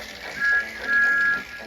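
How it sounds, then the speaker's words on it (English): Thomas the Tank Engine blows his new steam whistle in two clear, steady blasts, a short toot followed by a longer one, fairly loud and close. "Thomas thought it was the most wonderful whistle he had ever had."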